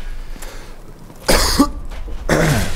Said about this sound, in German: Wenn man einmal was Cooles sagen, dann kriegt man so einen scheiß Hustenanfall.